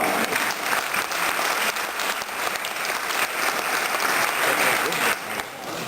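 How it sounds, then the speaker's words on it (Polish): Audience at a Civic Platform regional party convention in Kraków applauds the arrival of a government minister, a loud sustained burst of crowd clapping lasting about six seconds and tapering slightly at the end. "I wielkie brawa i podziękowanie za przybycie pana, pana ministra"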